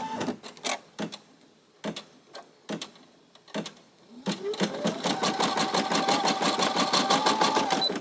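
An embroidery machine stitches pink thread onto a hoodie back held in a multi-position hoop. Sparse ticks come first, then a fast, continuous mechanical chatter builds and runs close and steady.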